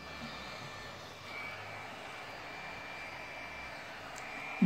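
A hot air solder station's blower runs steadily, a faint continuous airy whoosh with a soft hum, unchanging throughout and without talk.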